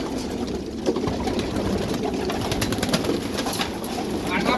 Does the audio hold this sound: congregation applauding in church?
no